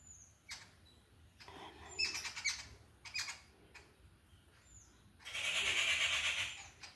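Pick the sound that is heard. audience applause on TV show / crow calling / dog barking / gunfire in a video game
crow calling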